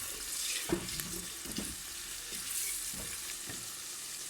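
Onion mixed with minced garlic sizzles in oil as it is stirred and fried for a Tunisian chicken noisettes dish, a steady hiss broken by a few soft scraping strokes, close and without talk.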